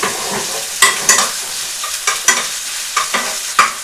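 Onions and garlic fry in a pan, a close, loud sizzle broken by sharp crackles and spatters and the scrape of stirring, with no voices.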